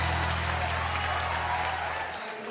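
A church congregation at a live worship service claps together, a dense, sustained wash of hands over a low hum that cuts off abruptly near the end.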